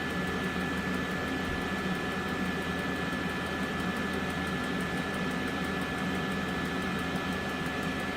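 Electric motor spinning with no load on a KLC 4000-A1 speed controller at its minimum setting, a steady, even whirring drone with broadband hiss and a faint high whine, constant throughout with no talk.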